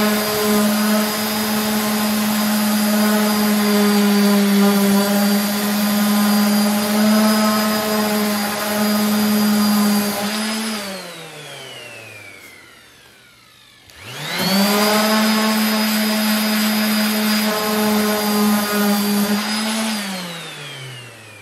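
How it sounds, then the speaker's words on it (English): A power sander runs on wood where a knot was filled with Starbond CA glue, giving a loud whining drone that spins down to near silence midway, then starts up again and runs steadily. "we're gonna go ahead and sand it down"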